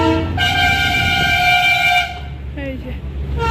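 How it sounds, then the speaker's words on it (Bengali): A diesel train near Ghum station in Darjeeling sounds a loud, sustained horn for about two seconds over a steady low rumble, followed by shorter, lower horn-like tones as the engine noise continues close by. "এদিক দিয়ে ট্রেন আসছে।"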